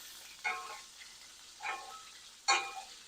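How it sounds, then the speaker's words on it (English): Steak being basted with butter, rosemary and garlic in a cast iron skillet: a quiet background sizzle broken by three brief louder spoon-like splashes of hot fat, spaced apart, with no talking. "Now we're just going to baste our steak."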